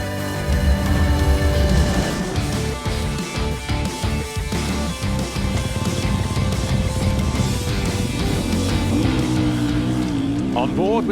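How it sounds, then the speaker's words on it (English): Beta SDM Corsa motocross bike at the MXGP of Lombardia, engine roaring loud and continuous at race pace through a first turn, with shifting revs over heavy background race noise. "On board with Alessandro Lupino on the Beta SDM Corsa machine"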